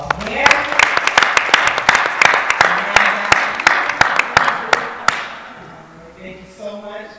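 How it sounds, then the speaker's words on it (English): Applause at a breast cancer awareness seminar, scattered sharp claps from a modest audience, some loud and close, thinning out before talking takes over. "Let's give them a round of applause."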